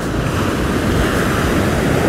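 Ocean surf washes steadily onto the shore in a continuous, loud roar with wind buffeting the microphone throughout, no voices present.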